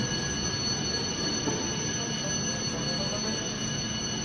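Train noise at Shenzhen North Railway Station, with a steady dense rumble and high tonal whine like wheel or equipment squeal, continuous and loud throughout with no voices.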